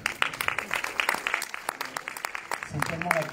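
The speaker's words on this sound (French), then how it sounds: "Bravo à vous, vous pouvez vous applaudir." A cinema audience at a screening of Mourir peut attendre claps in scattered, uneven bursts, fairly near, while a voice talks over the applause.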